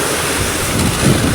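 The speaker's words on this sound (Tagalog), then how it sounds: "namumuti, laki ng alon" Big ocean waves break into whitecaps, a steady broad wash of surf mixed with wind rumble on the open sea near Dinahican, loudest toward the end.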